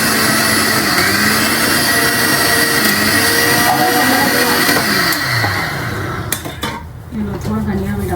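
Dishes being washed in an Indian home kitchen: a loud, continuous wash of running water mixed with clinks and scrapes of utensils, easing briefly near the end before resuming.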